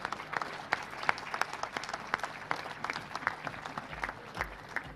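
An audience at a large HR congress celebration breaks into scattered, moderately distant applause, individual claps standing out irregularly over a soft crowd background for several seconds.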